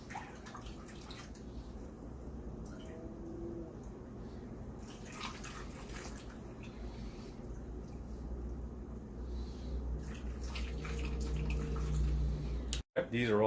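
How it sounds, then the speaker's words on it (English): Water being poured into canning jars while pressure canning Kashmiri mutton with turnips, a steady close rushing and trickling flow with light drips that swells toward the end and stops abruptly. "Fill up all these jars."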